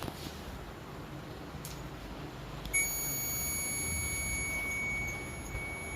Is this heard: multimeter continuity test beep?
yes